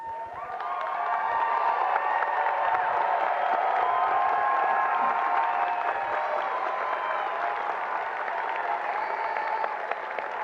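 A large commencement audience breaks into sustained applause and cheering for graduates at a winter university ceremony, a dense steady roar of clapping with scattered whoops lasting the whole stretch.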